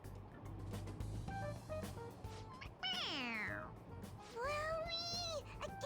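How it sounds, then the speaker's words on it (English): A toy cat in Persona 5 Royal meows when pressed on its head: two rising-and-falling synthetic meows, the first longer and the second with a bright sweep, heard over faint room tone with game background sound. "It meows when you press on its head."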